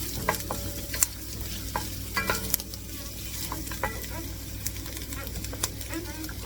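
Rice goes into a pot of chicken soup and gets stirred, with soft scraping and light sizzling, small clinks of a utensil against the pot, and a low steady hum underneath.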